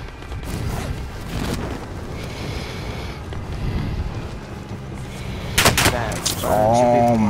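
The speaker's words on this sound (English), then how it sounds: "people are shooting me" Gunfire in Call of Duty: Modern Warfare, bursts of shots and rattling automatic fire over a rumbling, wind-like game backdrop, with a voice briefly heard near the end.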